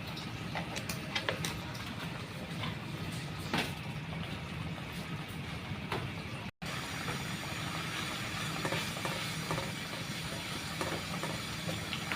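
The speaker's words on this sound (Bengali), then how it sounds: "মশলাটা অনেক ভালো করে কষে নিচ্ছি" Masala spice paste fries in a pan, giving a steady, moderately quiet hiss and sizzle that runs throughout, with a brief dropout partway through and no talking.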